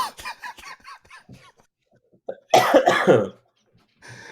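Talking, then a pause, followed by a loud, harsh cough burst of several hacks close to the mic, and a little more talking after.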